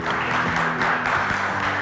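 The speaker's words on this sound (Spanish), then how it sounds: "Fuerte el aplauso para Eugenia Aravena, que está con nosotros." Audience applause in a television interview studio, a dense continuous wash of many hands clapping, loud and steady for the whole stretch with a faint hum beneath.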